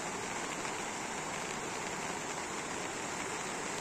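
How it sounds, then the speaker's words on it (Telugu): Heavy rain pours steadily and loudly in an open rural area beside farm fields, a dense continuous hiss with no breaks and no voices. "ఫ్రెండ్స్, మా ఏరియా అయితే చాలా పెద్ద వర్షం వస్తుంది ఫ్రెండ్స్."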